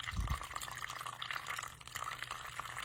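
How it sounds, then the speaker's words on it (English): Water steeped with redbud flowers drains through a sieve lined with coffee filters, a faint, continuous trickling and splashing close by with soft drips. "now I want to drain the water out of it. So in my sieve, I've added a couple coffee filters"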